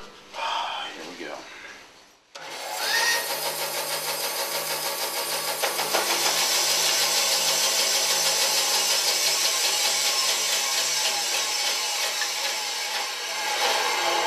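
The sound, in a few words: saw cutting a piece of ebony wood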